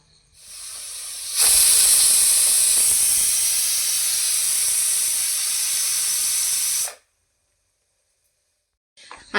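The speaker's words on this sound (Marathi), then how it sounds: "कुकरच्या दोन ते तीन शिट्या काढून घेऊया" A loud, sustained hiss of steam jetting from a pressure cooker whistle while corn cobs cook, steady for several seconds before cutting off abruptly into silence.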